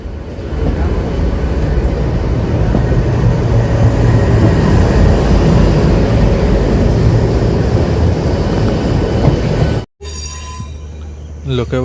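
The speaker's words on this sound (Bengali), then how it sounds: "এখন আমাদের ট্রেন হাওড়ায় ঢুকছে," A Bauria–Howrah local train on the Howrah–Medinipur line pulls into Howrah station with a loud, steady rumble of wheels and carriages. The sound cuts off abruptly near the end and resumes quieter.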